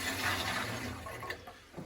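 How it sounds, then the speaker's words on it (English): Gurgling, rushing water runs through a combination boiler's heating circuit as it purges air, steady and close for most of the stretch before thinning out near the end, with no talk over it. "so you can hear it getting the air out"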